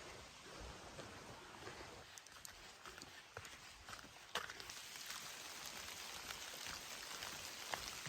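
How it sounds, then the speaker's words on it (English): Steady rain patters outdoors on a woodland trail, a dense even hiss with occasional sharper ticks that fit small pea-sized hailstones landing. "It's raining. There's pea-sized hail sometimes."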